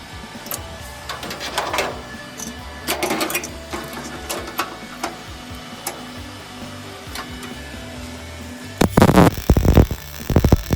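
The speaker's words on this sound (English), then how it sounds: "doing a plug weld." Plug welding on Early Bronco floor pans gives short crackling, buzzing bursts separated by pauses, loud and close, ending with a tight cluster of harsh welds.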